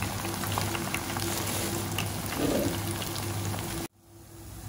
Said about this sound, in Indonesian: Kita goreng aja ya.